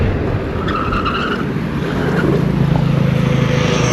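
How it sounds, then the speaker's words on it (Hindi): Ampere Magnus Grand Max electric scooter brake test at speed on a road: a steady, loud rolling and tire roar that builds into a sustained squealing, skidding tone as the brakes bite. "कैसा लगा ब्रेक टेस्ट, क्योंकि थोड़ा सा टायर तो आवाज़ करेगी ना, उतनी स्पीड पे जाऊंगा"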